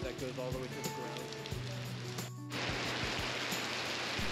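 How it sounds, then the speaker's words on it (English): Heavy rain pours steadily during a rainy motorbike trip toward the lowest point in Vietnam, a dense unbroken hiss with scattered sharper drops and a low vehicle hum underneath, loud and close throughout. "The rain was downpouring, absolutely unrelenting."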